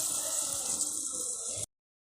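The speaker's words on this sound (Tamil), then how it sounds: "அதுக்கு தேவையான அளவுக்கு நம்ம தண்ணியை சேர்த்திக்கலாம்." Water pours steadily into a pressure cooker pot for fenugreek rice, a continuous close splashing rush for under two seconds before cutting off abruptly.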